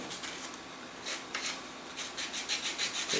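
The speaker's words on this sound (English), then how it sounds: "is go around here and actually bevel off the base of the nose cone a little bit." The base of a balsa wood rocket nose cone is beveled by hand, giving soft, steady rubbing and rasping strokes with a faint rhythmic scraping texture.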